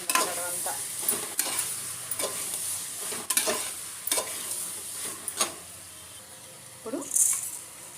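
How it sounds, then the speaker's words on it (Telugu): A spoon stirs coriander powder into a vegetable biryani mixture in a pan, giving repeated scraping strokes over a soft sizzle, close and clear with a metallic clink near the end. "ఇది మళ్ళీ మిక్స్ చేసుకోండి అంతా"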